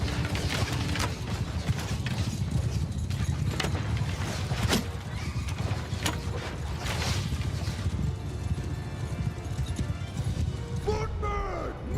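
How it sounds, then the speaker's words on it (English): Horses gallop with clip-clop hooves and whinny through a dense, continuous battle din in a medieval Nord strategy video game, with a steady, loud wash of combat noise throughout. "horses riding towards us"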